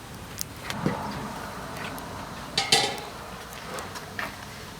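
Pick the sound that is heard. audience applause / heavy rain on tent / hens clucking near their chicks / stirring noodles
stirring noodles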